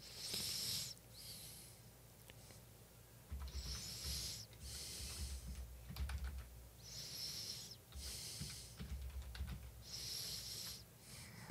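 Text typed on a computer keyboard, quiet tapping coming in several separate bursts spread over a dim, slightly noisy background, with no one speaking.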